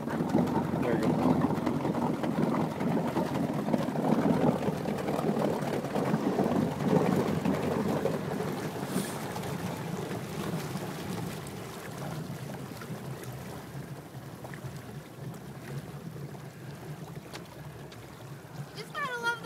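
A boat engine runs in neutral with a steady, continuous idle rumble that stays fairly loud throughout. It fades slightly toward the end, with water noise and voices in the background.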